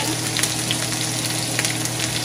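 Garlic and ground pork sizzle steadily in hot oil in a pan, a continuous close, moderately loud frying hiss with faint clinks and stirs and no talking.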